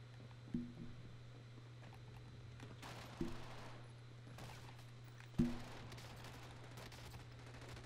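Three sharp, separate gunshots ring out in the Warzone shooter over a steady low hum, each one followed by a short decaying tail.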